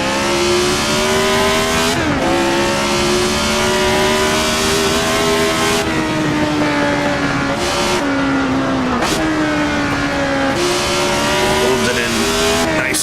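A Tyrrell 002 Formula One race car in Assetto Corsa screams loudly at high revs throughout. Several quick upshifts and downshifts break the steady engine whine as the car accelerates and brakes.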